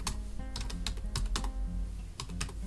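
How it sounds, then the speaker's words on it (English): Lowercase text being typed on a computer keyboard while building a banner in GIMP, a quick run of close clicking keystrokes in bursts with short pauses, no voices. "I'm going to just type it in lowercase"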